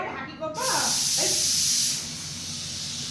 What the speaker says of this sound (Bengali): এই প্রেশার কুকার